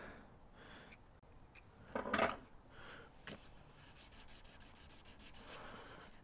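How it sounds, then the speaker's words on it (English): A knife blade scrapes crud off the metal contacts of a Black+Decker switch, close and moderately loud, with a sharp burst of scraping followed by a run of quick, evenly repeated rasping strokes. "Let's scrape it with a knife a little bit."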